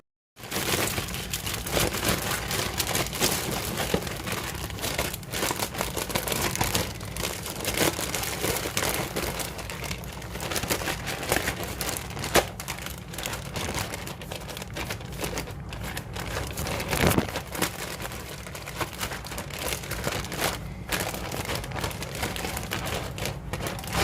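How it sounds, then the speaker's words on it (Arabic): A plastic bag holding marinated chicken breasts crinkles and crackles steadily as air is squeezed out of it, a close, continuous rustling that runs the whole time without speech. "بفرغ الهواء من الكيس والفه وادخله الرف اللي تحت"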